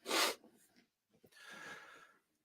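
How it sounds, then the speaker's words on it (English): A person sniffs sharply once at close range, a short breathy burst, then a softer, longer nasal breath follows about a second later. No talking. "I got a sniff."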